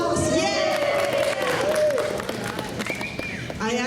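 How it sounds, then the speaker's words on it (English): A church congregation breaks into applause and cheering, with a voice speaking and calling out over the clapping before it thins toward the end. "A round of applause"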